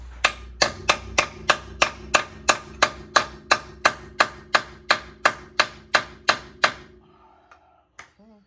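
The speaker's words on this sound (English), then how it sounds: "hammer this socket onto this one" A hammer strikes a socket being driven onto a bolt on the front end of an 1988 GMC truck, about sixteen sharp, evenly spaced metallic blows ringing out close and loud, followed by quiet and one last tap.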